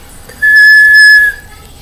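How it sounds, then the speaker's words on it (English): A person whistles one sustained, clear, fairly loud note lasting under a second, alone with no talking. "Can you whistle? Yes."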